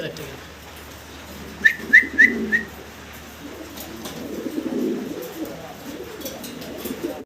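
Pigeons sold as breeding pairs coo softly at moderate distance, with a quick run of four sharp whistle-like chirps early on and faint voices in the background.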